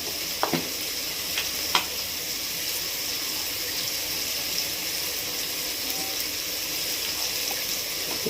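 Egg biryani masala frying in a pan with garam and chicken masala, a continuous sizzle with a few sharp scrapes of a spoon stirring early on, close and steady.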